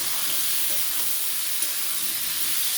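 Pumpkin and potato pieces hit hot oil for a Bengali pumpkin-and-potato stir-fry with fish head and Malabar spinach, giving a loud, steady close-up sizzle and hiss throughout with no talk.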